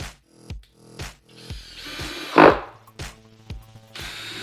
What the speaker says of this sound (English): You're going to attach them and stop them moving by screwing a supporting piece just at the back here.